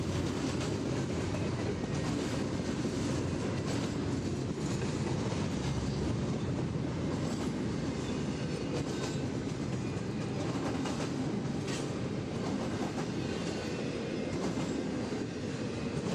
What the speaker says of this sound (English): this is the perfect spot for catching those westbound trains approaching